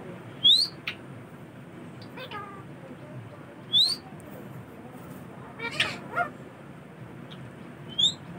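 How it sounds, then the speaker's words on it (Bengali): Pet parrot Mitthu gives short, bright, rising whistles, three sharp chirps spaced a few seconds apart, over quiet room noise with softer clicks and calls in between. "জোরে সিটি মারো মিঠু, জোরে সিটি মারো।"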